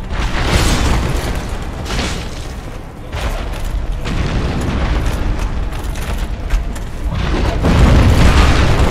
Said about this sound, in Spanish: Mierda, explota todo